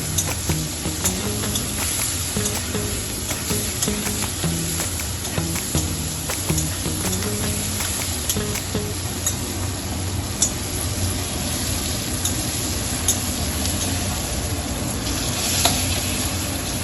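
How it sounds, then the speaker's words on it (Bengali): Onions and tomatoes fry steadily in hot oil in a pan, with a continuous close sizzle and occasional stirring scrapes and no talk. "একটু পেঁয়াজটা ভেজে নিচ্ছি।"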